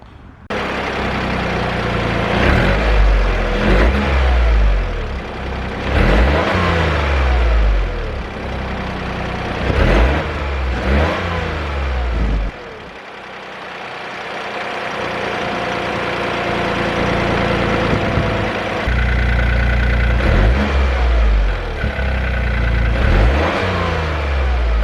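A Toyota GR Corolla fitted with a GR Yaris air filter starts up and idles, then is revved repeatedly in loud, close bursts that rise and fall, with a steadier idle and climbing revs toward the end.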